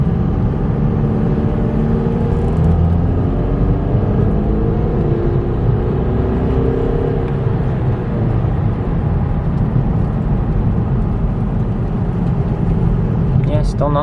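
A car drives through a neighborhood on its first outing with new wheels, producing a continuous close-up engine and road rumble that holds steady for the whole stretch, with no talk above it.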